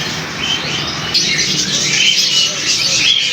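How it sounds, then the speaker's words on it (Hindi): Many lakka pigeons chirp, squawk and coo together in a dense, busy flock at a bird market in Bahawalpur, with steady noisy bustle throughout. "ये लक्के कबूतर है"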